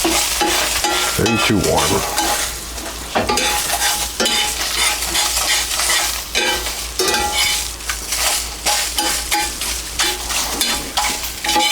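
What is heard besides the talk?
scrambling eggs in a hot pan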